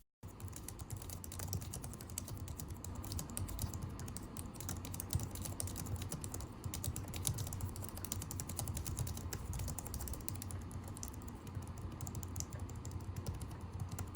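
Steady, muted typing on a Logitech MX Keys low-profile keyboard, a dense run of soft quick clicks with no talking, fairly quiet and continuous throughout.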